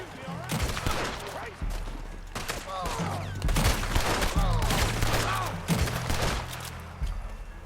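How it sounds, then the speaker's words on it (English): Gunfire in Red Dead Redemption 2 during a fight with hunters, a dense series of shots and impacts with voices shouting over a busy game backdrop. "I'm gonna brawl this guy and then I might as well just shoot him."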